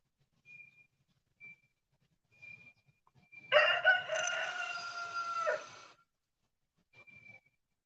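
A rooster crows once, loud and drawn out, with faint clucks and quiet chicken sounds before and after in an otherwise calm yard.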